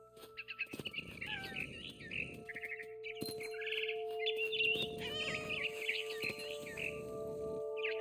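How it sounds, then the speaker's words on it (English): A barn swallow chirps near its nest in the What Remains of Edith Finch video game, with quick high tweets in bursts over soft rustling ambience, faint and close. "Then I heard chirping outside my window. It was a barn swallow going back to her nest."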